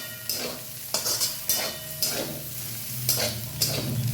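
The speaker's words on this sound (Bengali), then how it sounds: "শাকটা প্রায় ভাজা হয়ে এসছে।" Bottle gourd greens fry in a pan with a teaspoon of poppy seeds sprinkled over them, giving a steady close sizzle broken by about six sharp bursts of stirring and scraping, with no talk.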